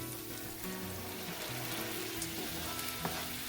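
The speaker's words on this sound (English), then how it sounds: "we are going to keep adding a ladle worth of stock to our pan" Stock ladled into risotto rice with roasted squash in a hot pan, giving a steady, moderately loud sizzle and bubbling hiss with faint stirring scrapes throughout.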